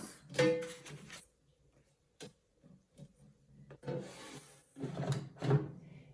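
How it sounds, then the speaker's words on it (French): A wooden drawer holding eggs and potatoes slides and bumps with rubbing scrapes and a few knocks, in two bursts separated by quieter moments, close and moderately loud. "Je les pose délicatement dans mon tiroir."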